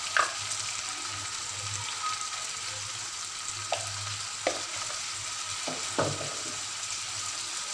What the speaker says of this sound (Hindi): फ्राई हो गया तो अब मैं इसके अंदर टमाटर और मिर्च डाल दूंगी